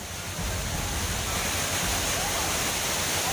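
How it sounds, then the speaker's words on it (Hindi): Floodwater gushes like a waterfall inside a temple complex in Madhya Pradesh after heavy rain, a dense, steady roar of rushing water that stays loud and unbroken throughout. "धाम के अंदर झरना बहता दिखा, हर तरफ सिर्फ पानी ही पानी नजर आने लगा।"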